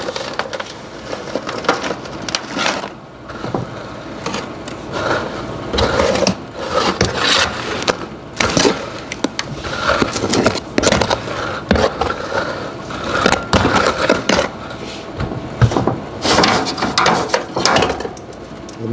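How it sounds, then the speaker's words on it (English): A trowel scrapes and spreads asphalt sample material across a pan, giving loud gritty scraping and crunching strokes that repeat irregularly, close up, without speech. "now we spread the material out evenly in the pan"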